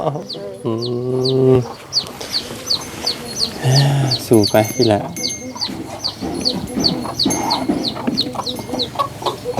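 Chickens and a rooster clucking and calling repeatedly at close range on a rural farm, with a person talking over part of it.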